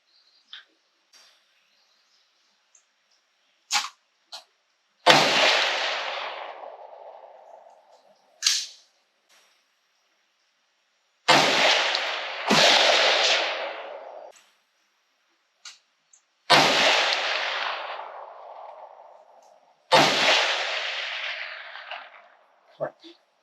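Rifle shots at an outdoor range from a 300 Ham'r firing Hornady 110gr V-Max reloads with CFE Black powder: five loud, sharp cracks, each trailing off in a long, rolling echo, spaced a few seconds apart between faint clicks.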